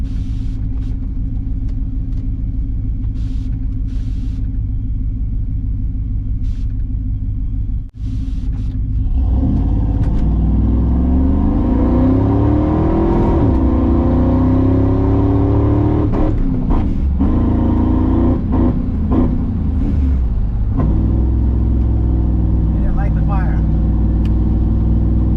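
A boosted, nitrous-fed Ford Lightning pickup rumbles and then revs hard as it pulls down a drag strip, its engine note climbing loudly and steadily, with people talking over the roar.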